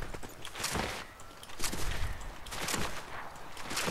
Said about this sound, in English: Hey, who's sniping at me?